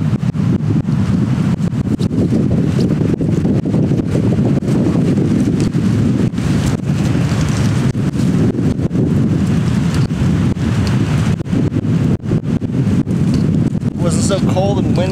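Strong gusting wind roars across the microphone at a below-freezing tepee campsite for the whole stretch, loud and constant, with a voice faintly under the noise.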